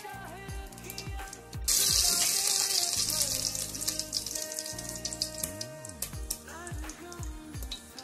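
Cumin and mustard seeds hit hot ghee and crackle in a brief bright burst, then settle into a lighter sizzle, all beneath prominent background music.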